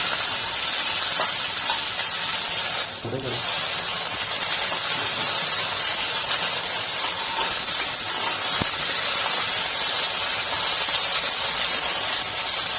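Okra frying in a little oil over a full gas flame gives a steady, dense hiss throughout, with a brief louder burst of sizzle near the start and occasional faint clicks of stirring.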